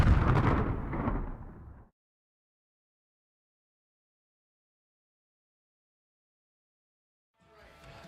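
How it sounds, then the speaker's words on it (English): A firework bursts at an evening event with one loud, deep boom that rolls away over about two seconds. Near-silence follows, then a faint crackling echo rises at the end. "And how about the fireworks, folks? Enjoy this show."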